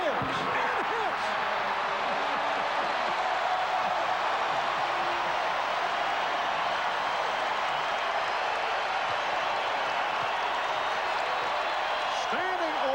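A capacity crowd roars steadily in Madison Square Garden during a 1996 Knicks–Bulls NBA game, a dense continuous wash of cheering that stays loud for the whole stretch with no clear pauses.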